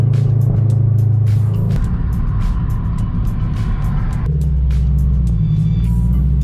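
A Toyota GR86 engine idles close by while warming up, with a steady low rumble, its pitch shifting slightly about midway.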